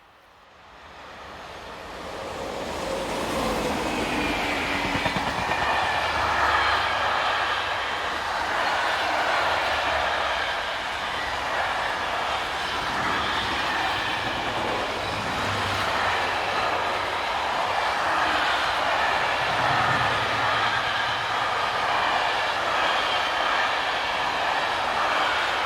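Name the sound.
southbound container freight train passing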